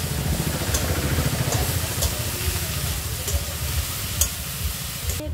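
Leafy greens stirred into a hot pan of frying onion and nigella seeds, giving a continuous sizzle with a few scraping stirs and light clatters near the end.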